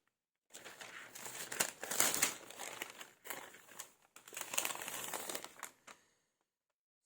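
A paper budget envelope being handled up close, with bursts of crinkling and rustling paper separated by brief pauses, fairly quiet and with no talking.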